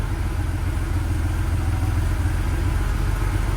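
A Porsche 911 G-Model 3.2 Carrera engine, just started after fifteen years standing, runs at a steady close idle with an even, slightly clattering low throb.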